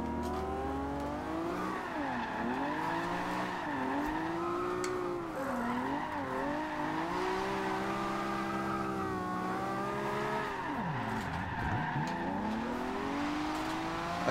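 A Nissan Skyline 2000GTR drifts in Forza Horizon 2, its engine droning and revving with pitch swoops while the tyres squeal through long slides, loud and continuous.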